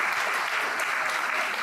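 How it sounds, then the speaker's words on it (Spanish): An audience applauding for speaker Enrique Maestro at the end of a talk on Karl Marx, a dense, even burst of clapping from a full room, loud and continuous. "Yo quiero un aplauso para Enrique Maestro."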